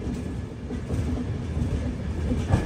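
The Visakhapatnam–Mahabubnagar Super Fast Express rolls along with a steady low rumble and faint rhythmic wheel clatter, heard from inside the carriage, loud and continuous.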